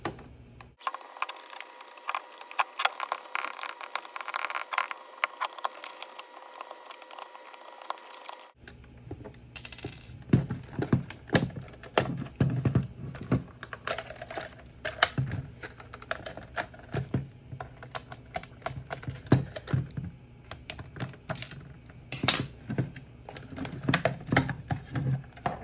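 Screws being removed from a life-size Spirit Halloween prop wand, heard as close, busy clicking and ticking of a driver and small metal parts in quick irregular bursts, with a brief hush near the start.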